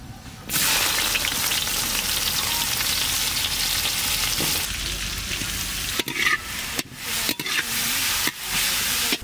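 Chopped onion hitting hot oil already flavoured with bay leaves, cinnamon, cloves and peppercorns gives a loud, sustained sizzle, then broken by several stirring scrapes and brief pauses near the end, with no talk.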